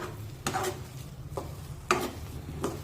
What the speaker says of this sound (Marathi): आता पुन्हा सगळं अगदी व्यवस्थित मिक्स करून घेऊया